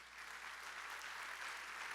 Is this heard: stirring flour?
no